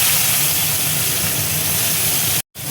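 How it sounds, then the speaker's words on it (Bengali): Chopped onion with fennel seeds and nigella seeds frying in hot oil, a dense steady hiss and crackle close up, loud and continuous, cutting out briefly near the end. "পেঁয়াজটা দেখো লাল করে ভেজে নেবো।"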